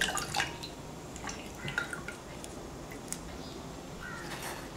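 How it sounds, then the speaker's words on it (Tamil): Mandarai flowers are dropped into water, heard as faint, scattered drips and small splashes over a soft background hiss, with no speech. "இப்போ இதோடைய காம்பெலாம் கட் பண்ணிவிட்டு பூவை தண்ணிக்குள்ளார போட்டலாம்."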